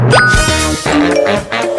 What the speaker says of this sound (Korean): 새로운 메시지입니다